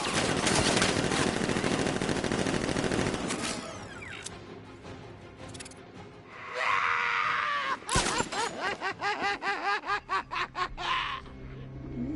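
Gunfire in the Batman Arkham Knight video game: dense, loud bursts of shots and chaotic action fill the opening seconds, then rapid rhythmic pulses of firing return near the end over music and effects.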